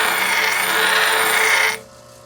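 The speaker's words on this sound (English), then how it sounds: "Head over to the next wheel and get to polishing it" Fossil sponge pressed lightly against a spinning polishing wheel, a steady close rasping whir for under two seconds that cuts off abruptly, leaving a faint hum.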